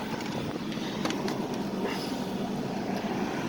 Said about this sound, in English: The motor sounds pretty good for a little Chevy V6.